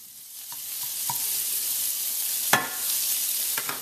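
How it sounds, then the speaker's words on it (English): Bacon lardons fry over medium-high heat in a non-stick pan, giving a soft continuous sizzle with occasional spatula taps and one sharper scrape partway through. "Simply cook up your bacon lardons in a non-stick pan over medium-high heat until they're nice and crispy."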